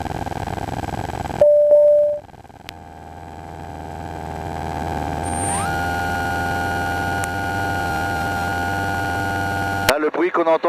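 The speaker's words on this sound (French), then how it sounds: "Le bruit qu'on entend, c'est le train qui rentre." Retractable landing gear of an ultralight aircraft folding up in flight near Saint-Dié: a steady mechanical whine and rising hum lasting several seconds over constant engine drone, ending with a clunk and short speech.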